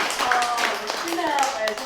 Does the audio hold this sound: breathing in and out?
no